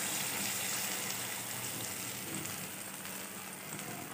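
Garlic and ketchup sauce frying in a pan, giving a steady, broad hiss of sizzling that stays fairly even and close throughout, with no talking.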